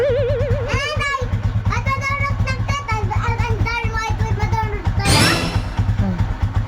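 A nearly new Rusi 150 motorcycle engine runs with a rough, uneven rattle throughout, while people talk over it and a voice rises near the end.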